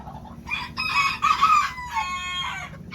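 A young mini bantam rooster crows close by, one full strained cock-a-doodle-doo with rising and falling segments and a shorter trailing note, loud and clear against quiet farmyard background.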